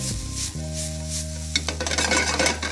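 Mushrooms sizzle in a hot pan, a few metallic clinks and stirring scrapes giving way to bursts of crackling fry.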